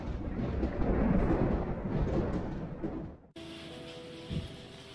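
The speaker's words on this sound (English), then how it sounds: "A severe rainstorm accompanied by hail struck the town of Wolbrom in the Lesser Poland Voivodeship." A severe rainstorm with hail over the town of Wolbrom in Poland rumbles with heavy, roaring thunder and downpour. After an abrupt cut, steadier rain follows under a faint hum.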